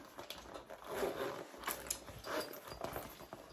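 A double zipper on a Louis Vuitton men's bag with silver hardware and black textile lining is worked in short, close rasping strokes, several quick pulls in a quiet room.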